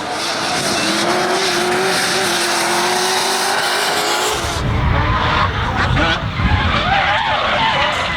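A drift car skids through a run at the D1NZ Drifting Championship at Hampton Downs, loud engine roar and sustained tire squeal, shifting into heavier rumbling screech midway, with faint commentary underneath.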